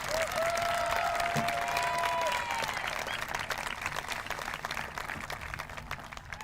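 At a school promotion ceremony, an audience applauds award recipients with sustained, dense clapping that is full at first and gradually loosens, heard at a moderate distance.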